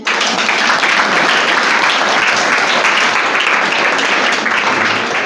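An audience at a Menstrual Hygiene Day event at a senior high school breaks into loud, dense applause, steady and unbroken from start to finish.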